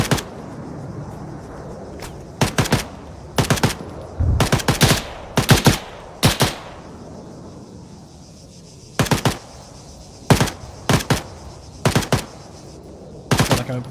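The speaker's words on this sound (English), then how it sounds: "Actually, these guys are returning fire pretty well." Soldiers returning fire in ARMA 3: repeated loud bursts of gunfire, short clusters of shots spaced through a quiet background, some volleys rapid like automatic fire, with no talking.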